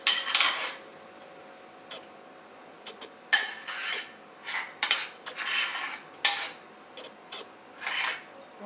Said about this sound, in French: dans les pâtes toujours chaudes, mais le feu éteint, nous allons mélanger le mélange fromage-œuf